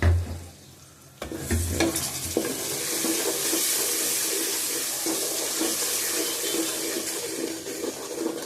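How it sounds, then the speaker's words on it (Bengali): Pickle is stirred in a pan, starting with a clatter and then settling into a steady frying hiss with scraping strokes, close and moderately loud, with no talking. "এরপরে এটাকে আমি নেড়ে দিব।"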